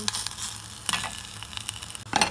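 Kirsch catches fire in a saucepan of caramelized onions tilted toward a gas burner, giving a close, crackling sizzle with uneven pops and a louder flare at the end.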